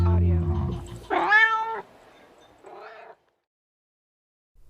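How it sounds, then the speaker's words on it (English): A domestic cat meows close up, two distinct meows, the first longer and louder, with a low background hum at the start before near silence. "Cat Audio."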